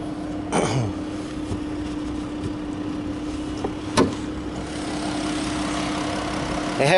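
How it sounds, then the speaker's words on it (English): A 2015 Chrysler 200C with a 3.6-liter V6 idles with a steady even drone and a constant hum, broken by a couple of brief clicks, with no talk. "And so I can show you the V6 engine it has."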